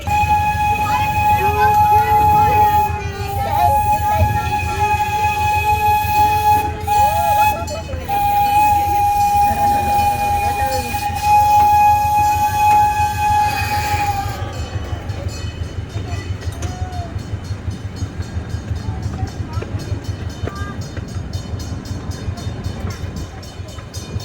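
A park train at Irvine Park rumbles steadily along its tracks with a low continuous drone, a high whistle-like tone sounding over it while someone talks throughout.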